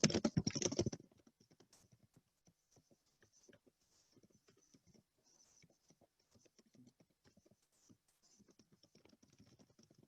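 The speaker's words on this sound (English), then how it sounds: "You guys are going to watch me type for a minute, hopefully not too long." Someone types on a computer keyboard during a Git and GitHub workshop: quiet, irregular clicking keystrokes in bursts after a brief louder rustle at the start, in an otherwise still room.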